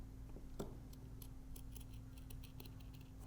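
Scissors make a few light, crisp snips through paper stock for a poinsettia planter papercraft, faint and close, over a steady low hum with no one speaking.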